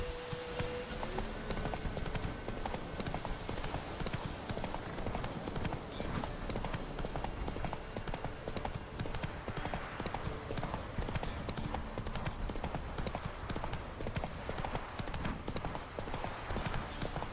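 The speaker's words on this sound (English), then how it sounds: "Run, Roach." Roach, a horse in The Witcher 3, gallops nonstop with fast, dense hoofbeats pounding close and loud, carrying on for many seconds with a faint whinny early on.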